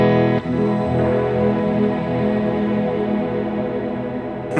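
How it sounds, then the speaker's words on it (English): Ambient electric guitar played through a Line 6 Helix Particle Verb modulated reverb, forming a dense, loud, continuously wavering wash of sustained notes that fills the whole stretch, with a final picked attack at the end. "huge modulated reverb thing."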